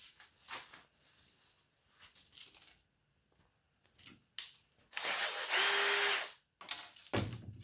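A power drill whirs in short bursts, then runs in one longer, loud spin before cutting off, with clinks and handling noises between.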